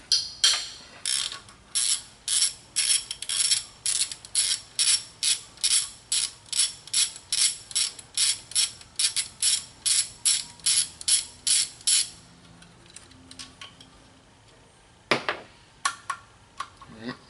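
Hand ratchet loosening cylinder head bolts on a 2007 Mini Cooper S R56, a close run of about twenty sharp, regular clicking strokes, then a pause and a few more clicks near the end.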